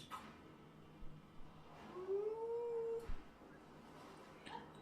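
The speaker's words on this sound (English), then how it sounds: "The dog whines and continues." A dog whines in a video game, one drawn-out, rising and falling whimper in the middle of the clip over quiet ambient background noise.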